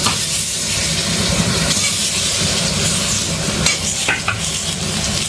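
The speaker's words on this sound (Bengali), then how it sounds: "আর এখন আলুটাও ভেজে নেব আমি, আলুটা ভালো করে ভেজে নেব আমি" Potatoes fry in a pan for a Bengali egg and potato curry, a loud, dense, close sizzle with a constant hissing roar and a couple of brief stirring scrapes near the end.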